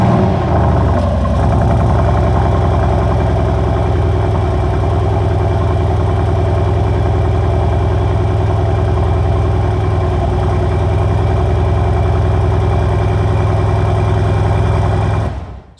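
A 2020 Mercedes-AMG GLC63 S facelift with a 4.0-liter bi-turbo V8 idles close up, a deep, steady, rumbling drone that stays even and loud from start to finish before cutting off abruptly at the very end.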